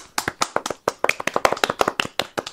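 Close, crisp hand claps from a small group during a quiz game, a quick irregular run of sharp individual claps lasting a couple of seconds with almost no talk.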